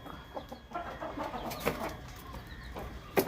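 Several chickens, including black hens and a fighting rooster, cluck nearby in short, scattered bursts over a low background murmur, with a sharper squawk near the end.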